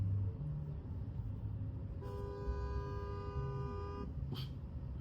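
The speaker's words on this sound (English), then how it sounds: "this guy over here. He's just sitting on the horn." A car horn held down continuously on a street for about two seconds, a steady bright tone over low traffic rumble, followed by a short second blast, moderately distant.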